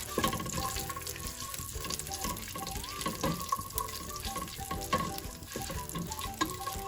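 Whole spices crackling in hot ghee as tempering for a chicken and mushroom kebab curry, a steady close crackle and sizzle with small irregular pops throughout and no voices.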